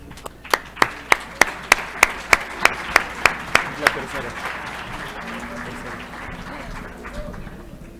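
Applause at a resuscitation symposium, a run of about a dozen sharp, evenly spaced claps that fade out, followed by quiet room noise and faint talk.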